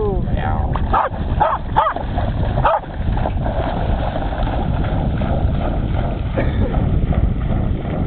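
A dog fetching a stick at the water's edge barks a few times, close and loud, mixed in with splashing and steady talking from people nearby.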